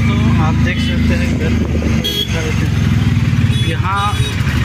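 Motorbikes and cars idle and move through street traffic at a Bhubaneswar signal, a constant close engine rumble with a brief horn toot, under someone talking.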